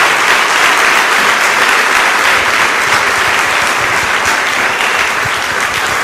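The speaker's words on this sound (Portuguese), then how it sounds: "Dê uma salva de palmas a Jesus." A church congregation claps in loud, steady applause that fills the whole stretch without pause.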